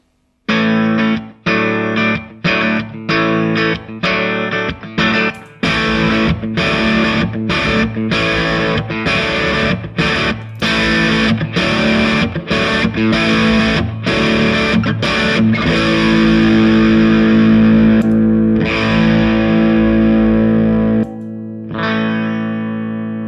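Electric guitar through a Mesa/Boogie Electra Dyne 1x12 combo amp, starting with clean picked notes, moving to a crunchier driven tone, then a saturated lead sound with sustained notes.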